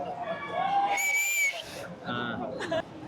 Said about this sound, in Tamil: குட்டி விசில் பாருப்பா.